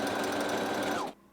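Sewing machine stitching a waffle stitch, a fast steady mechanical whir that runs continuously and stops suddenly near the end, close and clear.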